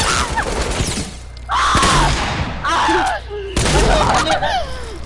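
Video game gunfire crackles in a few loud, broadband bursts, close and harsh, layered under excited overlapping voices talking throughout.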